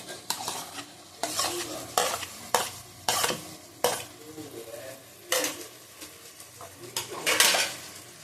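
Chicken cooks in a pan with garlic paste, ginger paste and tomato, a spatula scraping and stirring in repeated bursts over a soft sizzle, close and fairly quiet between strokes.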